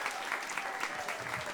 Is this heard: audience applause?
yes